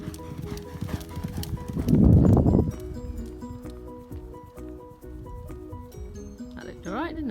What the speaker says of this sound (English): Rob, one of the older horses.